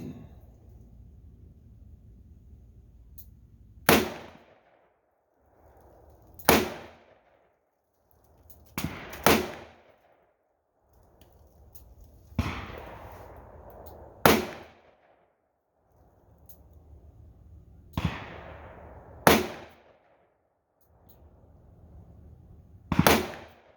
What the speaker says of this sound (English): I'm gonna shoot the 357, and she is gonna shoot the 38 Special as soon as I'm done.